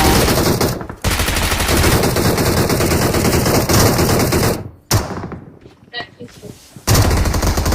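Loud, dense automatic gunfire in a shooter video game, long rattling bursts with a short gap and a quieter stretch of scattered thuds before the firing resumes.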